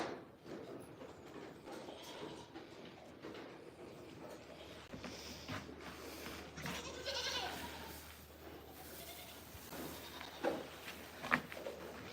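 Goats on a goat farm, junior does and yearlings among them, bleat faintly now and then amid quiet barn ambience, with occasional soft shuffling and a couple of sharper calls near the end.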